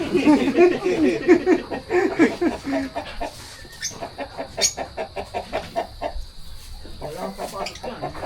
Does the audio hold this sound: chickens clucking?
yes